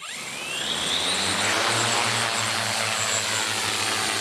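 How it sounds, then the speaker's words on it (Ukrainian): A Ukrainian-made demining drone with artificial intelligence flies close by, its steady rotor drone holding a low hum and a high whine throughout, with no voices. "Це дрон українського виробництва і працює зі штучним інтелектом."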